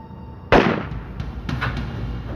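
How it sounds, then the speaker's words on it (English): A single sharp gunshot cracks out suddenly and loudly, followed by a lingering echo and a fainter second burst, staged as a reenactment for a crime documentary. "And then he heard a gunshot."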